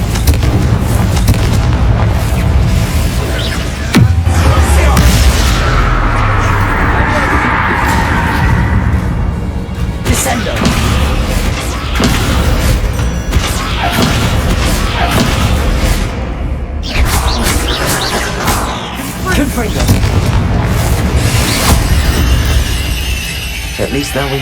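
The Confringo explosion spell in the video game Hogwarts Legacy, loud booming blasts and crashes mixed with dense combat noise, with voices speaking through the action.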